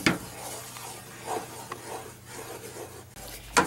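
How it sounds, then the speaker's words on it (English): A flour roux being stirred continuously in a gumbo pot for chicken and sausage filé gumbo, giving soft, steady scraping and rubbing strokes against the pot with a low background hum, close and moderately quiet. "you're gonna have to be at this pot continuously stirring for the next 20 to 25 minutes"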